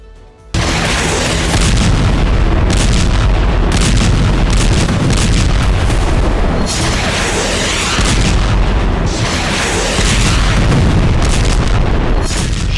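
Heavy explosions from Israeli strikes on Hezbollah positions, a continuous loud roar of booming blasts and rumbling bursts that starts abruptly and stays intense throughout.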